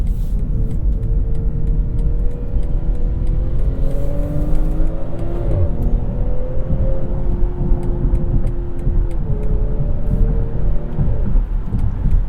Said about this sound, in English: go through the kick down pedal, and it drops a bunch of gears right away and powers away smooth and strong